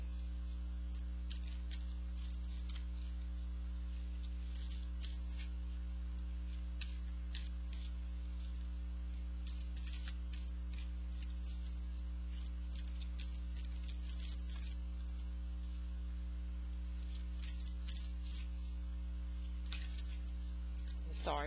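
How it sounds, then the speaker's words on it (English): Heart-shaped tarot cards being shuffled by hand: faint, irregular papery riffles and taps scattered over a loud, steady electrical hum that never lets up. "These are hard to shuffle too because they're shaped like hearts, so be patient with me as I shuffle them."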